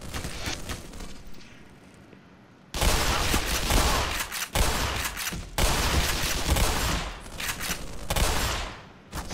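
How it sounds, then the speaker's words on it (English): An automated turret in Black Mesa fires long, loud sustained bursts of gunfire, broken by brief pauses and preceded by a quieter stretch. "Oh, that is a auto turret."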